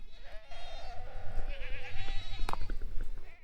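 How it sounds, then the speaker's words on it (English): Goats on a wooded farm scream and bleat repeatedly, loud and close, in drawn-out overlapping wavering calls with no talking. "your goats just would never stop screaming at you"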